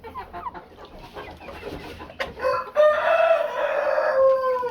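A mixed farm flock of chickens, including Japanese bantams, gives off clucks and then a loud nearby rooster crow that runs to the end, with faint talk early on.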